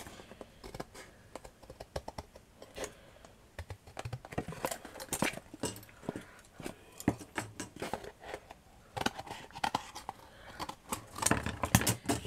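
Craft material is cut for grey decorative plaques, with close, rapid, irregular snipping clicks that continue steadily and grow busier toward the end. Nobody talks.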